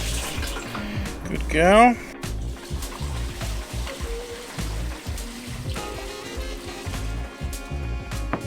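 Water is poured from a jug to wash a lawn-treatment product down into a basket, making a rushing splash and trickle that swells briefly near the start and then settles into a steady flow. A voice speaks briefly.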